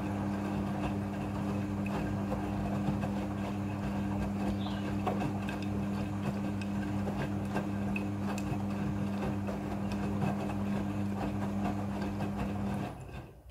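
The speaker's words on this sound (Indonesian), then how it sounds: "Setelah proses pemerasan selesai, masuk ke proses pembilasan air yang kedua." A Midea front-loading washing machine runs its second rinse cycle, giving a steady low hum with faint ticking and sloshing that continues evenly and close by, then stops abruptly near the end.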